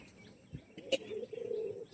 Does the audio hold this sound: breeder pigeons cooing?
yes